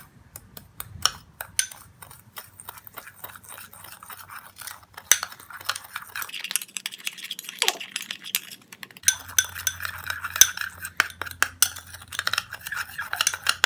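A spoon mixing the ingredients of a home remedy for whitening the feet in a small bowl, irregular close clinks and scrapes that grow busier over about fourteen seconds, with no voices.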